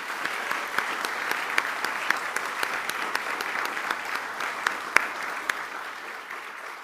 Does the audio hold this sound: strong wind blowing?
no